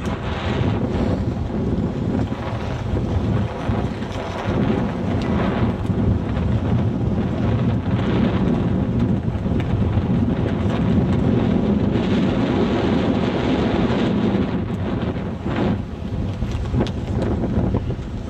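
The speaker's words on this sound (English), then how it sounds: "It is really windy." Strong wind buffets the microphone in a steady, heavy roar at Lake Tahoe, with a faint wash of lake water underneath, unbroken for the whole stretch.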